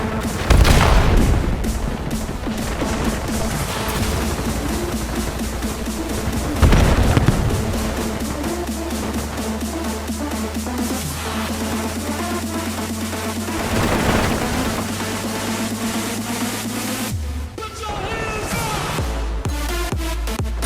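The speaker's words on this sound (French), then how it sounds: "Grenade envoyée." Dense Call of Duty Black Ops 7 battlefield noise, with rapid gunfire and booming grenade blasts running continuously and loud, a heavy explosion near the start and another around the middle.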